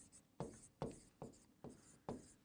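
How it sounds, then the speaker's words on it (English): Five crisp pen strokes scratch against paper as a name is written by hand, each short and close, evenly spaced and quiet. "I'll write his name here."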